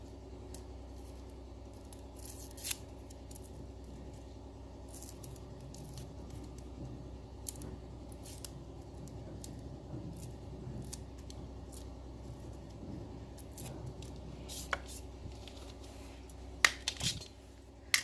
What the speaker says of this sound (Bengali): এবারে একটি ছুরির সাহায্যে পেঁয়াজের মাথাটি কেটে খোসাটি ছাড়িয়ে নেব